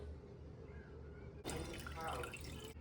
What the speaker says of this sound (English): lift the colander out of the whey and put it on top of the pan and let the curds drain into the pan